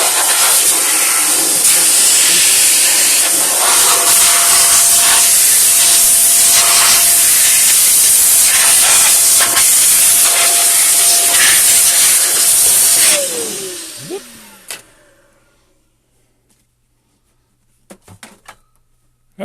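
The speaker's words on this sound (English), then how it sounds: "I'm going to give this a quick little blow down here." Electric 120-volt air gun blasting debris off a vintage Heath H-100 keyboard: a loud, steady, close hiss of rushing air for about thirteen seconds, then cutting off and spinning down, followed by a few faint clicks.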